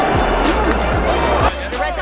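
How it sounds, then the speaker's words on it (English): A big crowd at a Yankees vs Red Sox baseball game at Yankee Stadium fills the air with loud, dense chatter and cheering, with a voice speaking close over it. "this is one supportive crowd"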